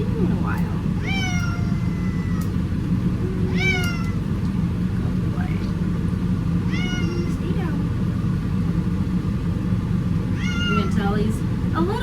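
Cat meowing during a grooming session, five or six drawn-out meows spaced a couple of seconds apart, close and clear over a steady background hum.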